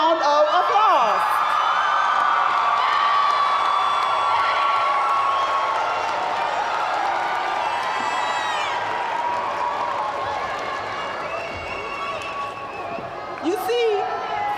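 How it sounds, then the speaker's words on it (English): A large commencement crowd applauds, cheers and whoops loudly and steadily for several seconds, with shouts and yells rising above the sustained roar before it slowly eases. "give your family and friends who have been there to support you along the way a roaring round of applause"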